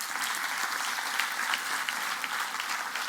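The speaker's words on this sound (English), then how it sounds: "Our alumni, big round of applause to you." Steady applause from a crowd at a school golden jubilee celebration honoring alumni, a dense even clatter of many hands clapping throughout without pause.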